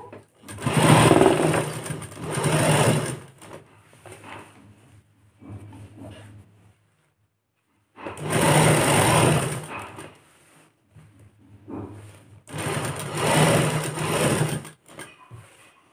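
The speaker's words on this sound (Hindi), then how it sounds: "यहाँ हम शोल्डर पर से सिलाई स्टार्ट करेंगे और इस तरह से कॉलर पर पूरी पर सिलाई लगाते हुए लाएंगे" Sewing machine stitching a collar on from the shoulder of a girl's tail-cut top, in three loud whirring bursts separated by quieter pauses, with no talk.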